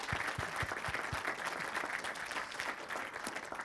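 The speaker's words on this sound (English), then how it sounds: "let's give Mark a final round of applause" An audience at a 2019 tech talk applauds the speaker, with a steady round of clapping and a few heavier thumps near the start.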